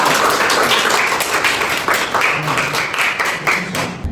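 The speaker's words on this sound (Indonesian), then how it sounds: "Tepuk tangan untuk kelompok 2" Dense, steady clapping from a classroom group applauding the second team in a training session, lasting throughout at close range with faint voices underneath.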